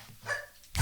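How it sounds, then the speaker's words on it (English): Dogs bark faintly in the background with a couple of brief, distant yaps, quiet and short against a still room. "Oh, the dogs."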